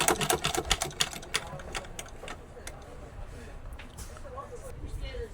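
A noisy sewing machine with loose parts runs with a rapid clattering, ticking rhythm that is strongest at first and then softens to a quieter hum, while a person talks.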